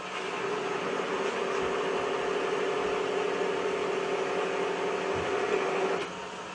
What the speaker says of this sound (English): Okay, reduce the lathe speed, off we go.